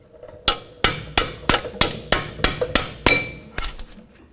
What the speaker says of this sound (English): Now we can carefully use a hammer and a punch